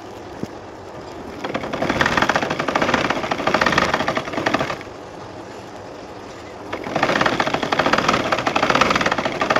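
A sewing machine stitches a blouse lining in bursts: rapid, rattling needle runs of a few seconds each, separated by a quieter pause, close to the microphone and without speech.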